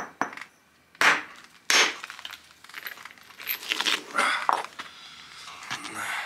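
A hammer stone strikes basalt during flintknapping, producing several sharp, separate cracking knocks at irregular intervals, close and crisp, with quieter scraping and handling between strikes.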